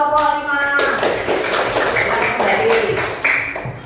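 A classroom of students applauds a group after its presentation, with a short burst of irregular, overlapping hand claps close by and fairly loud, lasting a few seconds.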